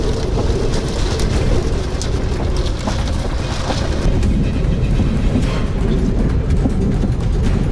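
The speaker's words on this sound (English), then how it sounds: "battered by relentless storms that unleashed flash floods across the region" Heavy storm rain pours steadily during Oklahoma flash flooding, a dense, loud, continuous roar with low rumbling underneath, close and unbroken throughout.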